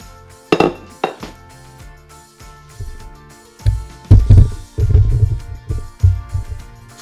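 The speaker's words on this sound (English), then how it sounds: "So now we're just gonna put the tea in there. I'm gonna stir it up" A spoon stirs tea into water for kombucha, clinking and knocking against the container in a close, irregular run of sharp taps and dull thuds that grows busier toward the end.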